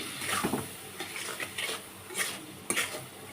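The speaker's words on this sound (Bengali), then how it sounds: "জিরা ধনিয়ার গুঁড়ো চিংড়ি মাছের সঙ্গে মশলাটাকে একটু কষিয়ে নিচ্ছি" Cumin and coriander powder being sautéed with shrimp in a pan for a mixed winter vegetable curry, a soft steady sizzle with a few brief spoon-stirring scrapes and clinks against the pan, close up and with no talking.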